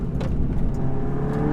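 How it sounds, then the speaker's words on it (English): Volkswagen GTI MK7.5 with a manual gearbox and full bolt-on upgrades, including an Integrated Engineering intake, accelerating hard up close, with a loud steady engine drone and intake roar lasting throughout. "Please excuse my harsh acceleration let off."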